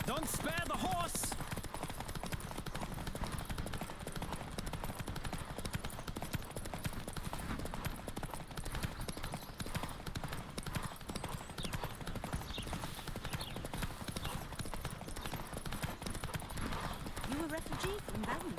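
Horse hooves gallop at a steady, rapid clip-clop during a race in The Witcher 3 video game, loud and continuous throughout, under shouted game voices.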